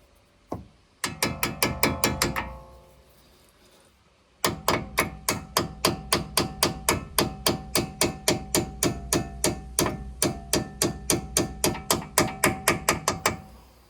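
Repeated metallic hammer blows on the back of an Audi RSQ3 brake disc ring out in a fast, steady rhythm, a brief pause after the first burst, then dozens more loud clanging strikes.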